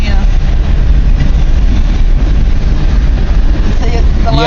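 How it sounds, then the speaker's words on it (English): Two long CN freight trains pass at once on a double track, a loud, steady broadband rumble and rail roar filling the whole stretch, with people talking over it. "But two trains going by at once, that's great."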